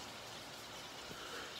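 Steady rain falls in a continuous, even hiss with faint patter on surfaces, moderately quiet and uninterrupted.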